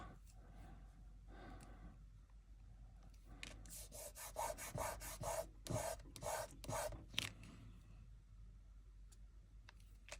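Finish being rubbed onto the metal rivets of a decoupage hat rack, a faint dry rasping and scrubbing in irregular short strokes, quiet and close, with no talking.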